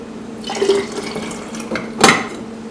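Liquid is poured out of glass jars in a short, splashy trickle with faint glassy clinks, ending in a brighter splash near the end. It sounds close and moderately loud in a quiet room.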